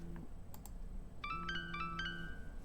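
In the video game Tell Me Why, a phone rings with a short, bright electronic melody, repeated in quick bursts, fairly soft and alone, preceded by a few faint clicks.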